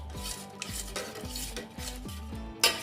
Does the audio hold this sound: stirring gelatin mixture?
yes